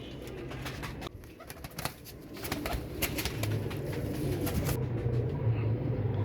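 Teddy pigeons coo steadily in low, throaty rolls, with rustling and scattered clicks around them, growing fuller toward the end.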